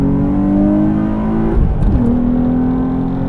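Nissan 350Z engine pulling hard under full acceleration, a loud, steady rising drone with a brief dip at a gear change before the revs climb again, heard from inside the car.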